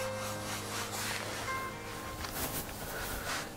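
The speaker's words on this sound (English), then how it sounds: "What I'm doing now is trying to wipe off the real heavy areas of ink" A cloth rubs ink off an etching plate in steady, soft back-and-forth wiping strokes, fairly close, over a low background hum; no speech.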